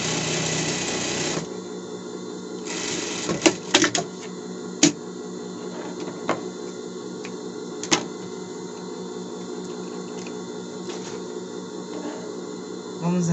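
A sewing machine stitches elastic onto a child's Monsters, Inc. costume in short bursts of fast, buzzing stitching, separated by pauses with a few sharp clicks and knocks.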